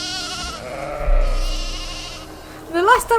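Sheep bleating in the zoo-building game Planet Zoo, a long wavering bleat up close followed by a shorter rising call, with no talk over it.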